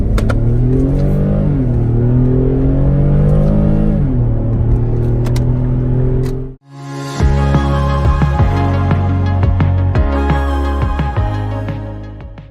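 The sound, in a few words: 2011 Infiniti M37x all-wheel-drive car accelerating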